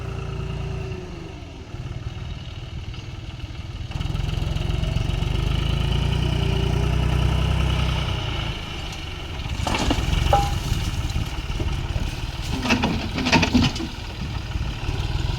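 A tractor engine working a farm field drones steadily at a mid pitch and low volume, rising slightly at times, with occasional clattering knocks near the end.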